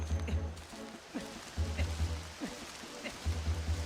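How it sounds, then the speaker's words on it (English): Rain falls in The Legend of Zelda: Twilight Princess, a soft steady patter behind rhythmic game music, with a voice briefly talking over it. "Oh no, it's raining."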